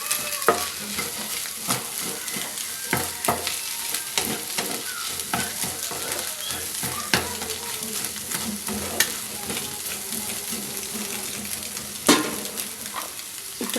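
Ingredients for egg rice frying in a pan, a continuous close sizzle broken by frequent scraping and clacking strokes of a spatula stirring, with a louder knock near the end.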